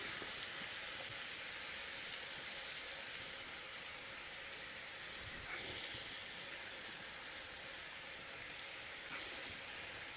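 Meat and yogurt sizzle in a pan over high heat while a meat masala cooks, a steady, dense hiss with no break.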